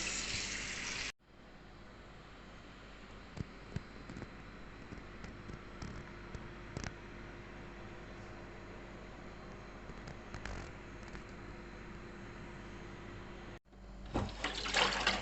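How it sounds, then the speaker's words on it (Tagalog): Mung beans being rinsed in water for ginataang monggo, a steady broadband wash of running or sloshing water that holds evenly for most of the stretch, with brief small knocks and no talk. "hugasan natin yung munggo"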